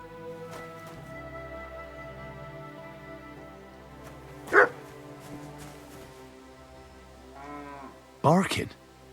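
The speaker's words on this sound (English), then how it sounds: "Barking?" A dog in the medieval game Kingdom Come: Deliverance II gives two sharp, loud barks a few seconds apart over a quiet low ambient hum, with a faint low call between them.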